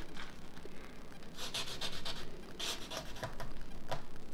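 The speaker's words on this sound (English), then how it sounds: "just rub it over with the popsicle stick" Popsicle stick rubbed over glued cardstock on a handbag craft, close, soft scraping strokes in a quick repeated back-and-forth rhythm, faint and without talking.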